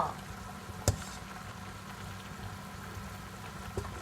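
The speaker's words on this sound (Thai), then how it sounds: "ตอนนี้ดิฉันก็ได้ทำการต้มไข่พะโล้มาแล้วประมาณ25 นาทีนะคะ" Thai palo stew of eggs, pork belly and shiitake mushrooms simmering in a pot, a faint, steady bubbling hiss with an occasional soft pop.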